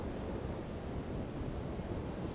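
Ocean waves break on a beach in a continuous, even wash of surf with no distinct individual crashes, fairly faint and steady with no voices.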